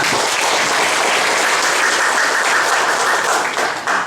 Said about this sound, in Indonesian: tepuk tangan untuk Debaca